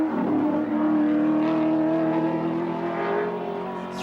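A touring car on a hot lap during the Hardies Heroes qualifying shootout at Mount Panorama, Bathurst. Its engine holds a loud, close, sustained note as it sweeps through a corner, with the pitch shifting slightly.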